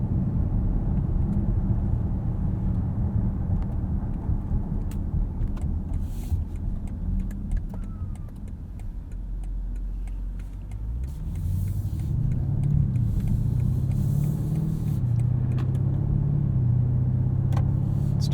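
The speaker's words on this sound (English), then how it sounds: "Let's do a little brake test up here." 2020 Alpina B7 xDrive on a chilly road, a deep interior engine rumble that dips as the car brakes hard, then swells again as it pulls away, with no talk.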